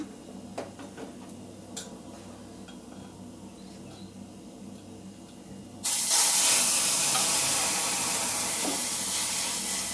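Loud, steady sizzle erupts about midway as ingredients hit hot oil with curry leaves, after a quieter stretch of light kitchen ticks and clatter; the hiss stays strong and even to the end.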